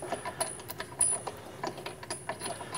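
A bolt is threaded into the mounting of an ATC spindle, giving close, faint metallic clicks and scraping ticks in a quick irregular run.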